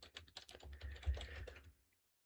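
Quiet, quick tapping on a computer keyboard while logging into a forex trading account, a short run of keystrokes lasting under two seconds before going silent.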